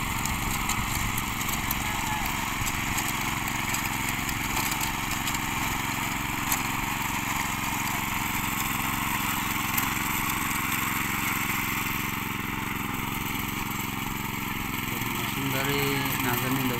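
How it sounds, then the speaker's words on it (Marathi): A small engine drones continuously at a steady pace, nearby and moderately loud, as a power tiller ploughs a field in Ratnagiri, Konkan. "पाहताय तुम्ही सुद्धा मशीन नांगरत आहे"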